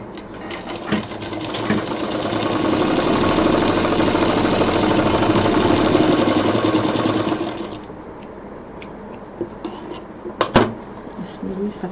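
A sewing machine runs steadily for several seconds stitching a long fabric strip for a mixer cover, a loud close mechanical whir, then stops, leaving a few quieter handling clicks and taps.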